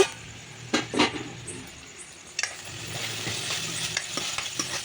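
Ginger garlic paste being stirred in a pan for a village-style prawn curry, a soft sizzle under a few clinking spoon scrapes against the metal, close and fairly quiet.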